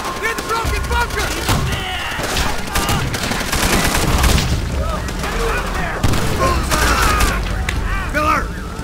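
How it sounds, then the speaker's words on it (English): Machine gun fire in Call of Duty: World at War, with bursts of shots and heavy booms among battlefield noise, loud and continuous, while voices shout over the fighting. "Machine gun! Near the broken bunker!"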